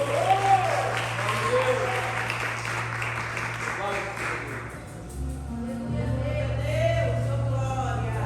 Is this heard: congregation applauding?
yes